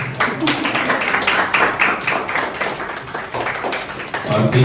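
Audience clapping for prize winners at a birthday celebration event, a steady mix of hand claps under ongoing voices and room noise, fairly dense throughout.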